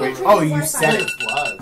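A stock phone alarm ringtone goes off in repeated bright electronic pulses, loud and close, while people talk over it.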